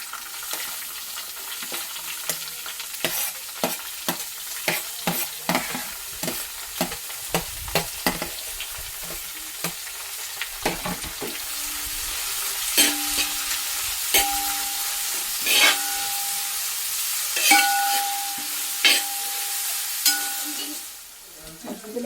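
Onions and shallots hit a pan already holding garlic and chillies, frying with a steady close sizzle broken by repeated sharp scrapes and clatters of stirring, the bubbling rising louder in the second half.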